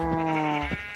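A Minecraft sheep bleats twice, two clear close wavering calls standing out over a steady game background hum.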